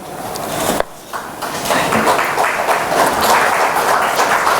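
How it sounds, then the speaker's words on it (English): Audience applause in a conference hall at an agriculture conclave, a dense sustained patter of clapping building after a short knock, fairly near and loud. "A loud applause"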